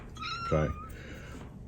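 A cat gives one short, clear meow amid a quiet room, and a person briefly speaks.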